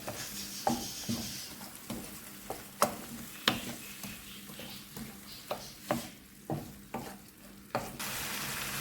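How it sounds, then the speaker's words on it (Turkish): Food, including chopped tomatoes, sizzles quietly in a frying pan while a utensil scrapes and knocks against it in a repeated stirring rhythm, roughly once every second. "Şöyle karıştırıyor."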